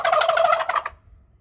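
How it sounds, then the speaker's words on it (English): A wild turkey gobbler gobbles once, a loud rapid rattling call close by in spring woods, trailing into quiet forest background. "he hears another gobbler"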